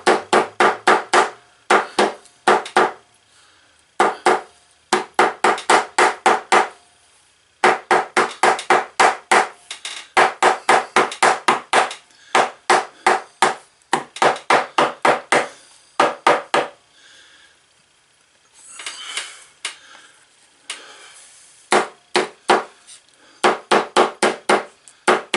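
A hammer repeatedly striking a steel cutting die to punch out a leather coin pouch, loud close blows in quick bursts of several strikes separated by short pauses.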